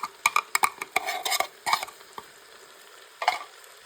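Potatoes and mixed vegetables fry in a pan as a utensil clatters and scrapes in quick bursts over a quiet sizzle. The clatter pauses and then returns once more, with no voices.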